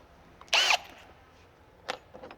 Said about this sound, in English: I'm going to drill my pilot hole there